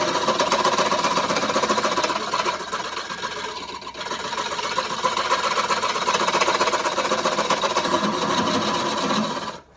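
Wood turning on a lathe, a tool taking a gentle cut with small strokes across spinning wood, giving a continuous loud scraping, rasping whir that dips briefly midway before carrying on steadily and cutting off at the end.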